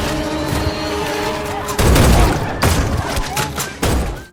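Gunfire in a Korean film about a parasite outbreak, a dense, loud burst of shots and booming impacts layered with crashing action sounds and background score.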